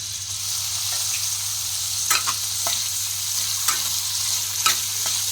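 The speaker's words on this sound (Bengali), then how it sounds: "ওই কড়াইয়ের মধ্যে, ওই তেলের মধ্যে আমি দিয়ে দিলাম 2টো মাঝারি সাইজের কোচানো পেঁয়াজ" Two medium chopped onions fry in hot oil in a wok with a constant bright sizzle, broken by several sharp clinks and scrapes of stirring; no voices.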